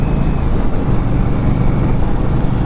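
A 2022 Indian Scout Rogue motorcycle with a 69 cubic inch engine runs steadily and loudly, with a low rumbling drone and wind rush throughout and no voices.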